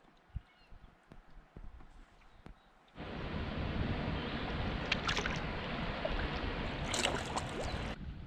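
Canoe paddling on Mink Lake in Algonquin, a steady broadband wash of water and wind that starts abruptly after a few quiet seconds and continues, with occasional faint knocks from the paddle against the hull.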